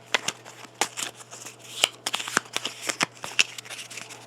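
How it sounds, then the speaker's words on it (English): Board game mission cards being shuffled by hand, a quick run of crisp riffling snaps and flicks repeating in uneven bursts, close up and fairly quiet with no talking. "Let me get the mission cards out. Okay, here we go. Shuffle them up."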